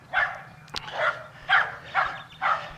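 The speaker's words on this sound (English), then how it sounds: "barking at the next dogs" A dog barks at other dogs outdoors north of Mexico City, giving five evenly spaced, loud barks about half a second apart, with a sharp click between the first two.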